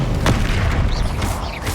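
A Confringo spell blast in the video game Hogwarts Legacy produces a heavy, booming impact that rumbles through nearly two seconds, loud and close, with game effects layered over it.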